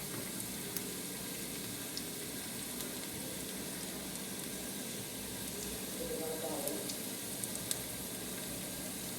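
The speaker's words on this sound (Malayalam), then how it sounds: "കടുക് വറുത്തിടുക" Mustard seeds spluttering and frying in hot oil for a tempering of chillies and curry leaves in a village kitchen, a steady close sizzle with sparse sharp pops scattered throughout.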